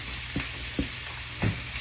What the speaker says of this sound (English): I'm just going to let those start sauteing in this butter